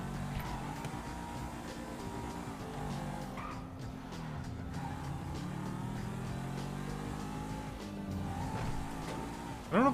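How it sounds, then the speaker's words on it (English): A fast car revs and races in the video game GTA V on a NoPixel server, giving a steady, loud engine drone with shifting pitch throughout and no talk. "I'm curious how fast this car is"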